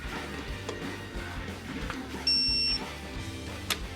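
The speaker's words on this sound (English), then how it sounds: "There's our beep letting us know we're tight." A short electronic beep from a torque wrench reaching torque during motorcycle maintenance sounds once, clear and steady for about half a second, over low background workshop noise.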